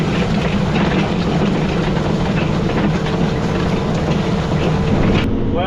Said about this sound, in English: I'm getting going with the turbo till here.